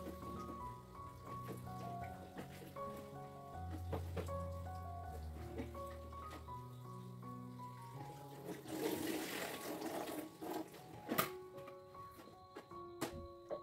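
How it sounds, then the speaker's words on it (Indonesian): Fresh water spinach and chilies rinsed under a running kitchen tap, a steady stream of water splashing over the greens for several seconds with some louder bursts of splashing, close and fairly quiet. "langsung aja mau aku cuci si kangkung sama si cabenya tadi"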